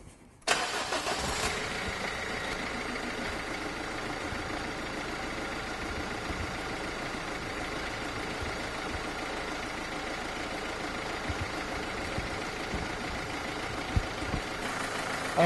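The diesel dCi engine of a Renault Scénic cranks and catches, then settles into a steady clattering idle that carries on evenly and fairly quietly for the rest of the time.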